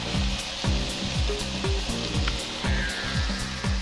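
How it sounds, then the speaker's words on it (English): Asparagus goes into a hot pan for brown rice pasta with shiitakes and pesto, giving a continuous sizzle and frying hiss with faint clicks and stirring. "Next, I'm gonna add my asparagus."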